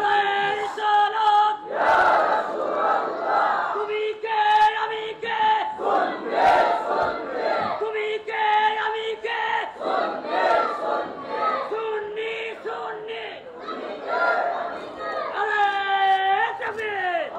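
Large crowd at a religious conference in Bangladesh loudly chanting the takbir in unison, repeated call-and-response rounds of sustained massed voices filling the whole stretch.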